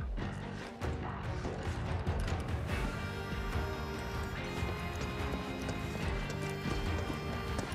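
Chocobo running in Final Fantasy 7 Rebirth, rapid rhythmic clip-clop footfalls over loud game music and effects, steady and continuous after a brief dip near the start.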